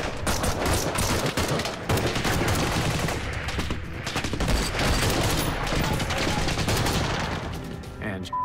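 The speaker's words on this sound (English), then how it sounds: "And we just started taking heavy fire." Sustained heavy gunfire in combat rattles on throughout, a dense, loud barrage of overlapping shots and bursts with no pause.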